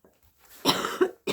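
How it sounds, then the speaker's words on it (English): A person with a tickly throat gives a couple of close, dry coughs in quick succession, loud and clear against a quiet room. "Tickly cough."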